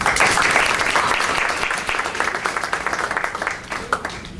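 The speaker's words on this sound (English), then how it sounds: "So I'd like to acknowledge their coaches prior to Solano College with a round of applause." Crowd at a college athletes' signing ceremony applauds the players' former coaches, a full, dense round of clapping that starts loud and gradually thins out as it fades.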